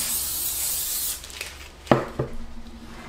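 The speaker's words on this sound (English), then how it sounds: "spray some oil or brush some oil" A steady hiss of cooking oil spraying onto baking paper runs for about a second, followed by a couple of light taps and rustles.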